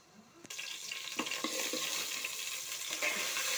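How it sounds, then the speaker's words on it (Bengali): Garlic and onion frying in hot oil in a saucepan, a steady close sizzle with a few clinks and stirring scrapes over it. "সসপ্যানের ভিতরে আমি তেল দিয়ে দিয়েছি, তারপরে রসুন পেঁয়াজ দিয়ে দিলাম।"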